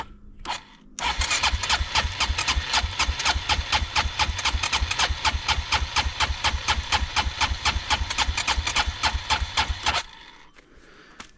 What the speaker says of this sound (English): let's see if she'll fire, I guess